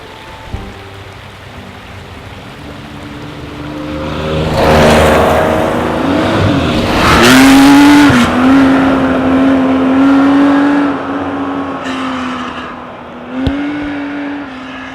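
A Porsche race car engine builds from a low idle into a loud sustained rev, holding a steady drone, then easing back, heard close with no voices.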